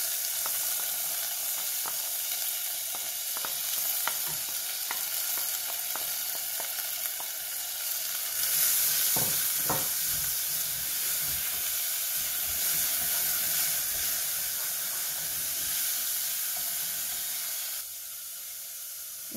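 Lentils tipped into a pan of sautéed shallots sizzle loudly and close up in a continuous hiss, with scattered clicks and scrapes of stirring throughout and a slight drop in level near the end.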